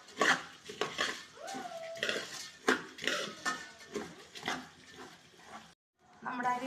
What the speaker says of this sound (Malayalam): എന്നിട്ട് നന്നായിട്ട് ഇളക്കി കൊടുക്കണം.